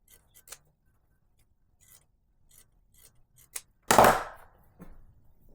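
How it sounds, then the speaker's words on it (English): Pinking shears cutting along the edge of wool fabric: a few faint soft snips, then one louder, longer crunching cut near the end, with quiet gaps between. "I'm also going to edge it with pinking shears."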